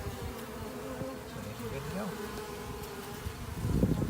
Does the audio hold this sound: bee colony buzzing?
yes